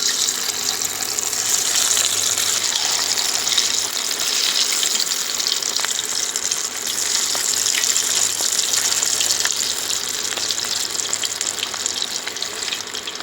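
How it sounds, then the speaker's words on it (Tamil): Oil poured into a heated pan for frying cauliflower chilli, a loud continuous gushing sizzle that stays steady through the whole stretch, close and alone without voices. "சட்டி காய்ச்சி எண்ணெய் ஊற்றிக்கலாம்."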